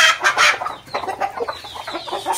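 Hens cluck and call close by on a farm with groundnut fields and oil palm plantings, a lively cluster of overlapping clucks that rise and fall in short bursts.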